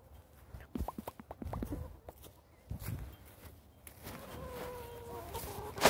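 Rhode Island Red chickens clucking nearby in a backyard flock, a run of short rhythmic clucks followed by scuffling and a steady outdoor background.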